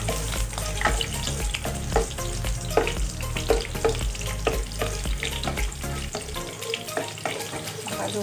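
Annatto seeds frying in cooking oil in a pan, a continuous crackling sizzle with scattered pops and scraping stirs throughout, no talking.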